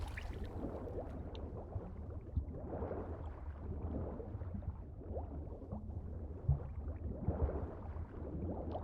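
Underwater swimming in The Witcher 3 on PC gives a steady, muffled churn of gurgling, bubbling water, fairly quiet and close, with soft surges and no talking.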